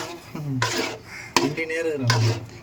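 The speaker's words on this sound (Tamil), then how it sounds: "வா தீனா, கிண்ட ஆரம்பிச்சிட்டியா ஃபூஃபுவை?" Thick cassava fufu being stirred by hand in a pot, with repeated scraping and knocking strokes of a spoon against the pot sides in an uneven rhythm, close and moderately loud, with a voice faintly present.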